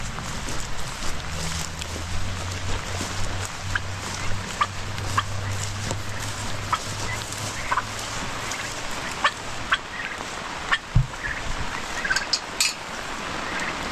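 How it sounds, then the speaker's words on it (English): Turkeys gobble and cluck around feed in a backyard garden pen, scattered bursts of calls across a steady outdoor background with a low droning hum, moderately close. "Turkeys are starting to get their appetite."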